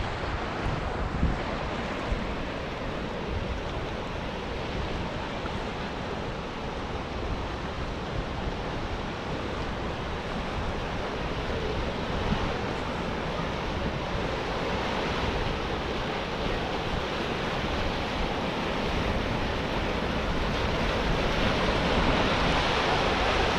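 Dense, steady rushing water of Mekong River rapids at Kaeng Kabao, Mukdahan, Thailand roars without a break over rocks, loud and close, with some wind buffeting.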